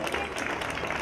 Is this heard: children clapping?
yes